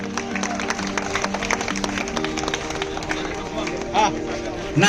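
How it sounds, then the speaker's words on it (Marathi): A crowd at a walkers' group gathering applauds a gold medal winner of a 50 km rugged walk, a dense, continuous clatter of hands mixed with voices and tonal sounds. "साहेबांच्या जोरदार टाळ्या."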